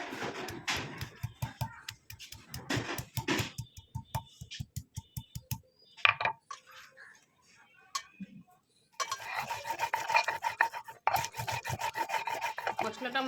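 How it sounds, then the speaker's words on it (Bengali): Ginger, green chili and cumin being ground on a grinding stone, rhythmic rough scraping strokes in quick bursts, a short pause with a few knocks, then a longer continuous grinding run, close and alone. "এই দেখুন আমি একটা একটা করে মশলাগুলো বেটে নেবো।"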